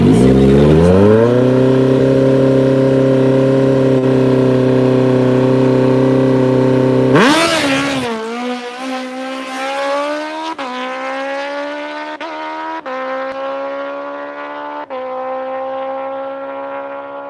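A drag racing motorcycle makes a qualifying run. The engine holds a loud, steady high rev, then snaps through a shift into a rising scream that pulls away and fades into the distance with further gear changes.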